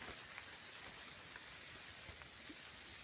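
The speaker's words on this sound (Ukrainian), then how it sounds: "Дощ іде, квіти які гарні." Rain falling in a forest among ferns and flowers, a faint, even patter of drops with occasional louder single drips, distant and steady throughout.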